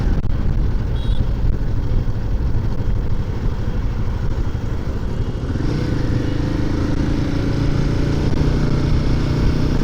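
A Royal Enfield Himalayan 450 motorcycle on the move gives a steady, loud engine drone mixed with wind rush throughout, its tone shifting slightly partway through the ride.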